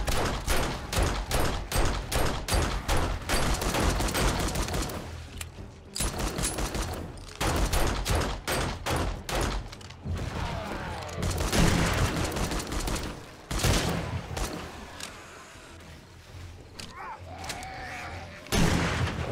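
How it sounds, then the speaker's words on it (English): Shotgun fire in the survival game 7 Days To Die (Alpha 20), with rapid loud blasts in dense volleys broken by short pauses, mixed with game action noise. "This shotgun's not very good at long distance, is it?"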